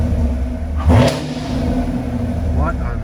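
A 2018 Chevrolet Camaro 2SS 1LE V8 engine idles with a deep rumble, then revs briefly and settles back to a steady idle, close by.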